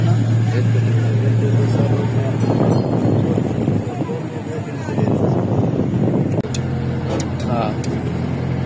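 A small river launch's engine drones steadily at close range, mixed with wind buffeting and a faint rumble of water, with brief higher clanks near the end.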